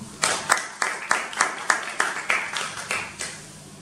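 A conference audience claps for a speaker introduced before a talk on press and literature, with about a dozen distinct, evenly spaced claps in a slow steady rhythm, sparse and moderately loud as from a small group.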